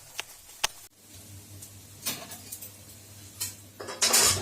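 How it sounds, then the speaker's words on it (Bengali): Scrambled egg being stirred and fried in a pan for egg tarka, with scattered scraping clicks and clinks of a utensil against the pan, a few sharp taps and a louder scraping burst near the end, fairly close and moderate over a faint low hum. "একটু নাড়তে থাকতে হবে যাতে এটা ছোটো ছোটো অংশে ডিমটা এইভাবে টুকরো টুকরো হয়ে"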